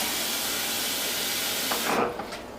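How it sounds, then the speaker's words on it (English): Pig feet boiling in a pot of water, a steady close hissing rumble of bubbling and steam that swells briefly near the end, with no talking. "we're actually going to let this boil"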